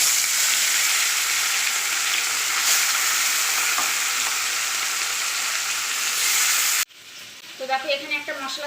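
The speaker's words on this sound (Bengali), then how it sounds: "এবার আমি মাছগুলো দিয়ে ভেজে নেব।" Ayla fish sizzle in hot white oil with a loud, continuous frying hiss for about seven seconds. It then drops off abruptly to a quieter kitchen sound with a brief voice.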